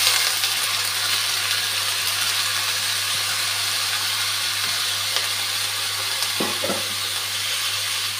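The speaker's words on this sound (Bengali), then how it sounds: "এখন সেদ্ধ করে রাখা মোচাগুলা দিয়ে দিচ্ছি।" Boiled banana flower with ginger paste and a spice mix cooking in a pan, giving a steady loud sizzle and hiss with a constant low hum and a couple of faint knocks near the end.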